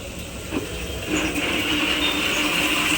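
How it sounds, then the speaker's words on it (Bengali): An electric mixer grinder runs while spices are ground, a loud continuous whirring hum that steps up in intensity about a second in and holds steady after that. "ব্যাস মিক্সিটাকে চালিয়ে দিল"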